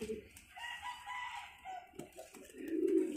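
Pigeons by a newly built nest, a Sirazi and a short-beaked roller pigeon pair, giving soft throaty coos and warbling calls close by, with a louder burst of cooing near the end.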